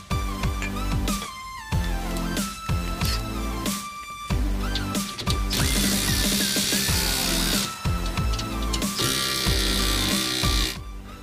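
An impact gun works on the rear of a GMC Sierra pickup during a lift upgrade, giving loud, close bursts of whirring and rattling hammering in short runs and longer stretches, with no talking.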